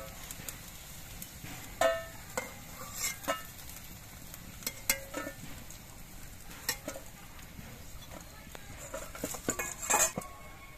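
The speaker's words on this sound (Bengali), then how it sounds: "আবার আমি কিছু পকোড়া দিয়ে দিচ্ছি। এই একইভাবে আমি সবগুলো পকোড়া ভেজে নেব।" Drumstick flower pakoras frying in hot oil make a steady soft sizzle, with sharp metallic clinks and scrapes of a spatula or spoon against the pan coming at irregular moments throughout.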